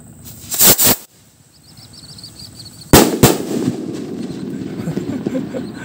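Two quitis firecrackers pop in loud, sharp double bangs, the first pair early and the second pair near the middle, each followed by a lingering rumble and spatter that may come from water.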